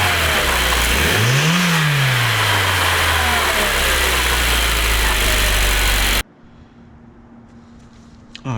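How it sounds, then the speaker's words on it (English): Car engine revving before a cold air intake is fitted, loud and continuous with a rising and falling sweep, then cutting abruptly to a quiet idle-like hum near the end. "I want to show you guys what it sounds like before I put the intake in"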